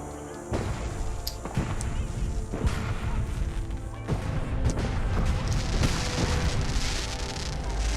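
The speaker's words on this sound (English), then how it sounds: "that is a pretty tragic fireworks display. Just one blast." Fireworks go off in Fallout 4's Nuka World amusement park, as in a video game: several heavy booming cracks burst over a steady, noisy background roar, fairly loud and close.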